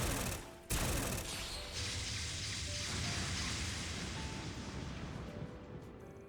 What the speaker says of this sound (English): An enhanced needle gun.